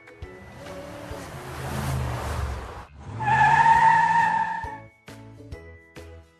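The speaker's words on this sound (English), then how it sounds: "It's fun to drive a fast car." A fast car speeds along, its engine rushing for about three seconds before tires squeal in a loud, bright skid that holds for nearly two seconds, then a few short knocks follow.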